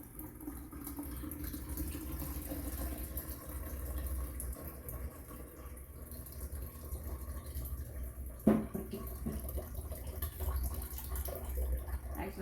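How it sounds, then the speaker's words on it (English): Thanksgiving juice made from leftover ingredients is poured through a new strainer, giving a steady, soft liquid trickle and splash that runs continuously at close range, with one brief knock partway through. "I'm gonna pour our Thanksgiving juice."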